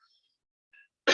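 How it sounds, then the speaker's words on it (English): A single short, loud cough bursts in near the end after near silence, close to the microphone, during an online science lesson about the digestive system. "COVID cough, sorry."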